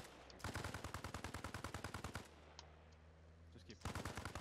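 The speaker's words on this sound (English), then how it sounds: "There's some shots in the forest." Rapid automatic gunfire bursts ring out in a forest in the video game ARMA Reforger, a long sustained rattle followed by a pause and then another burst, loud and sharp rather than distant.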